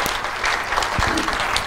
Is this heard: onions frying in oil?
no